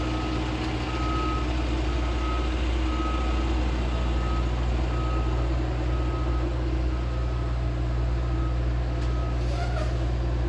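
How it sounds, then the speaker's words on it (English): Reversing beeps sound at a steady interval over the loud, constant low rumble of a nearby truck engine, with a vehicle going past. "Should we wait until the car is gone?"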